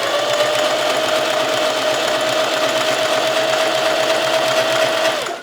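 A sewing machine runs continuously while stitching a seam, a loud steady motor whir with a fast even needle rhythm, close and alone before cutting off.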